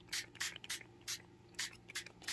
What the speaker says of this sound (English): We can go in with the spray stain